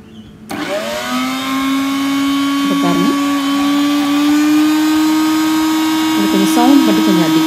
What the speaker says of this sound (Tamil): மிக்சியை சுவிட்ச் ஆன் பண்ணிட்டேன்